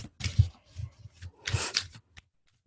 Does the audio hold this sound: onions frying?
no